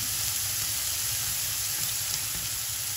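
Green chilli frying in hot oil for a Kerala fish curry in coconut gravy, a steady close sizzle and hiss with no break.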